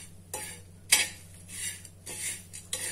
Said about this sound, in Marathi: आणि हे सगळं छान या गरम तव्यावर आपण भाजून घेऊया